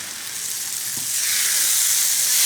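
Chopped tomatoes frying in a pan as their released water cooks off, giving a steady, close, hissing sizzle that grows slightly louder, with one soft stir partway through.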